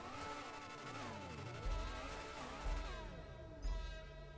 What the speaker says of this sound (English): Everyone's just revving their cars.